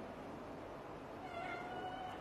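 A cat in a home with an air conditioner and fan running gives a faint, drawn-out meow near the end, barely rising above the steady whir of the fan.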